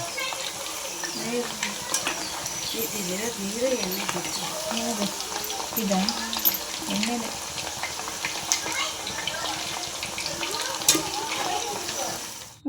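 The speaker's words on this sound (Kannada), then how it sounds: "ಎಣ್ಣೆ ಚಟಪಟ ಸೌಂಡು" Chicken kabab with mint frying in oil over a low flame, a steady dense crackle and sizzle running throughout, close by, with speech over it.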